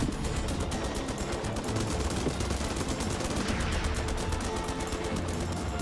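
Rapid, continuous gunfire from the Xbox One helicopter rescue game Dustoff Heli Rescue 2 sounds as a loud, dense rattle that never stops.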